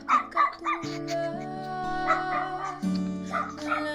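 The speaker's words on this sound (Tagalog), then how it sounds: "Ayan, may aso po." A dog on a remote mountainside in the Philippines gives a few yips and whimpers, fairly close, over a sustained musical tone and some background murmur.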